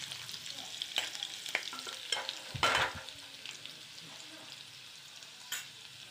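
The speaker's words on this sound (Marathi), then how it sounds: "त्याच्यानंतर हे आलं थोडंसं, 2 मिनटं परतूया यांना छान" Chopped ginger sautés in a pan with a light sizzle, while a spoon scrapes and stirs in scattered bursts. One louder scraping flurry stands out midway through.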